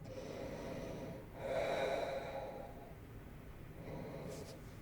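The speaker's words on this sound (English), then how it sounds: "Close your eyes and just listen to your breath." Soft breathing during a yoga ear pressure pose, a quiet steady inhale and exhale with one fuller breath near the middle, close and faint.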